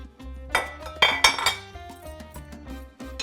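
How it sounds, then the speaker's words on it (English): Diced potatoes and carrots tumble into a metal pot of beef stew. Close clinks and clattering of cookware and utensils ring out in a few uneven bursts, with no talking. "We're gonna add our 2 potatoes. And our 2 carrots."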